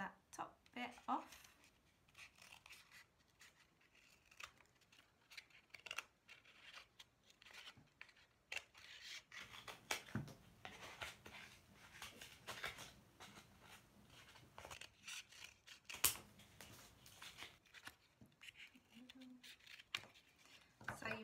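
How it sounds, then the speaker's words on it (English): Scissors snip through paper while egg shapes are cut out for an Easter art project, soft close crisp cuts scattered among quiet handling, under a talking voice. "you're going to want to cut that top bit off"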